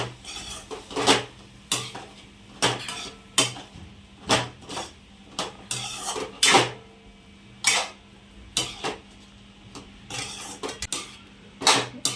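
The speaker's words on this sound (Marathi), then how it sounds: "हे बघा फुलकोबीला मस्तपैकी फोडणी दिली आता" Cauliflower is tempered and stirred in a pan, with a metal utensil clinking and scraping against it in a string of close, irregular knocks and taps.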